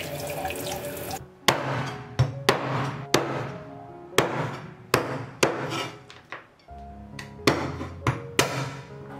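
A cleaver chops a small free-range black-footed hen into small pieces on a board, sharp loud whacks at an irregular pace with short pauses between strikes, close up and without talk.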